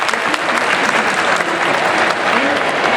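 A crowd applauding at the Anime Friends 2019 convention, loud and dense, sustained throughout without pause, with some voices mixed into the clapping.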